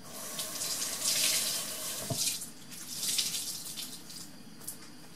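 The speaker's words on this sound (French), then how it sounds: "On fait un petit coup de rinçage quand même." Tap water runs steadily and splashes while an induction hob is rinsed after cleaning, the flow swelling and easing in surges with a brief clatter in the middle.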